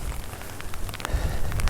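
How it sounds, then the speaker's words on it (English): Wind buffets the microphone outdoors with a low, gusty rumble while rain patters in scattered ticks, building slightly toward the end. "I've now got the wind at my face and the rain blowing at me."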